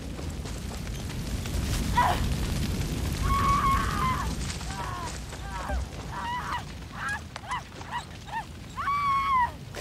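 A dog in the video game Far Cry 6 lets out a series of short, tonal barks and whines at irregular intervals over a steady background of game ambience.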